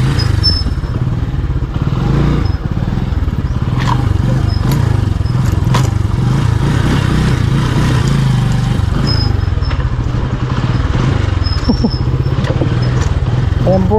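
A motorcycle rides along a rough, uneven path, its engine droning steadily and close the whole time while the bike clatters and scrapes over the bumpy ground.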